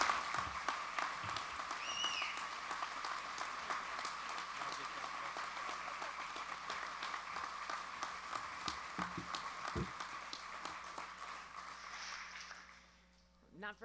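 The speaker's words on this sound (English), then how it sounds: "please give a round of applause to Mikki Cochrane." Sustained applause from an audience at a softball hall of fame induction ceremony, steady clapping filling the room for about twelve seconds before fading out.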